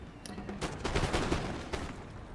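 Musket volleys from massed infantry firing at the Old Guard during the Battle of Waterloo in Napoleon: Total War, a dense, rolling crackle of overlapping shots with no gaps between them.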